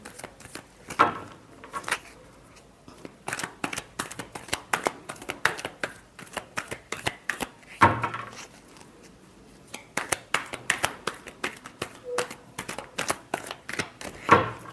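Tarot cards shuffled in a short Scorpio reading session, giving a steady run of crisp riffling flicks and soft slaps that continues for several seconds at close range. A few faint gaps interrupt the rhythm, and no voice is heard.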